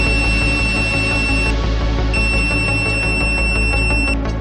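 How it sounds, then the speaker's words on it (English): An ANENG 622A multimeter's continuity buzzer gives a steady, piercing electronic beep that cuts out briefly and then resumes, with no other sound. "Buzzer measurement. A beep indicate normal"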